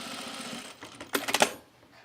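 A sewing machine stitches fleece for a men's pullover in a short, quiet burst of rapid clattering, preceded by a soft hum.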